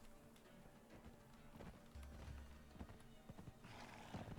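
A ridden horse mount in Conan Exiles gallops with quick, rhythmic hoofbeats, with a whinny breaking in near the end, quiet overall.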